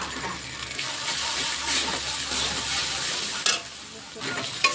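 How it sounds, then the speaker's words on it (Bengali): Ground spices with a little turmeric are stirred and fried in a pan, a loud continuous sizzle broken by scraping strokes of a spatula and a couple of sharp knocks, close up with no talking. "মশলাটা ভালো করে নাড়তে হবে যাতে নিচে ধরে না লাগে। ভালো করে আগে কষিয়ে নিই মশলাটাকে।"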